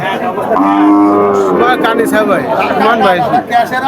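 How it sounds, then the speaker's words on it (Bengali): A Friesian cow at a busy village cattle market in Jhenaidah moos loudly and close, one long drawn-out low call, while people chatter and talk around it. "এটা ফ্রিজিয়ান জাতের একটা গরু"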